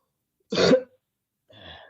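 A single short throat-clearing cough bursts out close by in a quiet room during a debate, followed after a pause by a softer, briefer vocal sound.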